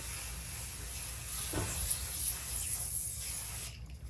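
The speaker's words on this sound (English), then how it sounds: "all I'm gonna do is use some basting adhesive and basically go like this" Basting adhesive sprays from an aerosol can onto tearaway stabilizer in one continuous soft hiss lasting several seconds, close and fairly quiet, then cuts off abruptly.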